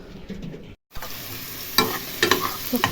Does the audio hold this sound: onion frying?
yes